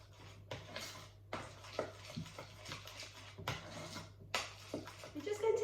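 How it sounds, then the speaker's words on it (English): A spoon stirring Welsh rarebit mixture in a pan, with soft repeated scraping strokes and occasional louder knocks against the pan, fairly close and quiet. "and then give it another stir."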